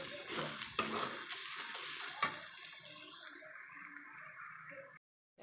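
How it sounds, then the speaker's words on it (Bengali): Spice paste for chicken curry sautés in a pan, a dense close sizzle with scraping stirs, the frying softening partway through before a brief cut at the end. "এবার ভালো করে কিছুক্ষণ কষিয়ে নেব"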